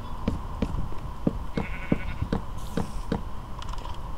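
Sheep bleat in the Minecraft video game, while a steady series of short clicky block-placing taps repeats over a quiet background.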